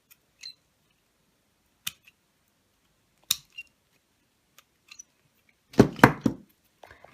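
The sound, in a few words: cutting parts for cork reindeer craft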